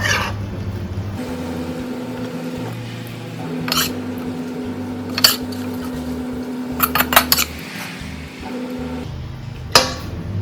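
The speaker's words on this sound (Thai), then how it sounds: "ตักใส่จานเลยค่ะ" Stir-fried minced pork with cha-om being spooned onto a plate, scattered clinks and scrapes of a spoon against pan and dish over a low steady hum, with a few sharper knocks.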